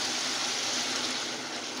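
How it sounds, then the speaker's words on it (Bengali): Water streams steadily into a pan of hornfish curry, a continuous, even rushing pour heard close up and on its own. "এটা আমি পানি দিয়ে দিলাম।"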